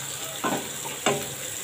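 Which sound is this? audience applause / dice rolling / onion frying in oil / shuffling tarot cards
onion frying in oil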